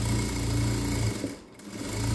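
A sewing machine stitches a lined princess-cut blouse, a close, loud rapid mechanical whir that halts briefly midway, then starts up again.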